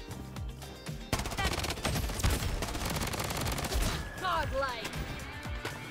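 Rapid automatic gunfire from a turret in the shooter game Bloodstrike, dense continuous bursts with layered game effects and chimes near the end, loud and up close.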